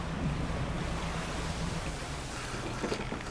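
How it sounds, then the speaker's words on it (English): Water churns and splashes behind a small fishing boat in the game Dredge, a steady rushing wash that stays loud and close throughout. "I hear a lot of splashing in the water behind me"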